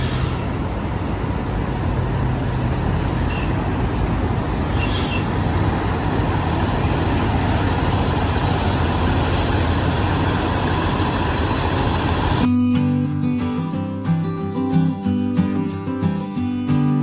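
A passenger train running between Sidoarjo and Bojonegoro gives a loud, steady engine and rail rumble for most of the stretch. Music-like tones take over near the end.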